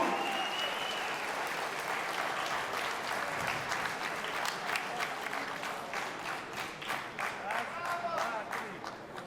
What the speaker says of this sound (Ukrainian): Оплески нашому герою!